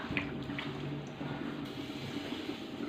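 Water is patted by hand over a bhakri on a hot griddle, giving soft wet dabbing and a light steady sizzle close by, with no speech.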